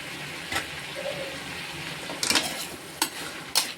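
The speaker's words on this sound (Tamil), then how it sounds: "இப்போ வந்து நம்ம பச்சை பட்டாணி வச்சுருக்கோம் கழுவி பச்சை பட்டாணியை போட்டுக்கிறோம்" Washed green peas tipped into a pan for vermicelli kichadi and stirred, giving a low steady sizzle with a few sharp clinks of a spoon against the pan near the end.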